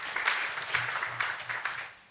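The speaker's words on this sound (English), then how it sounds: "Let's clap for that." Scattered clapping from an audience at a women human rights defenders' conference, moderate and uneven, tapering off toward the end.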